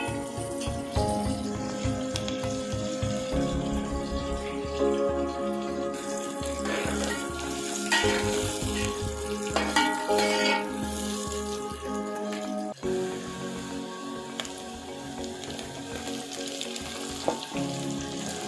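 Two washed, chopped onions frying in a pan for a chicken and chappan kadu curry, a continuous sizzle with occasional stirring and clatter, layered under background music with no talk.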